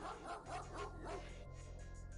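Dog barking from the video game The Xcom Files, a run of quick, moderate barks repeating over a steady low background hum, with no talking.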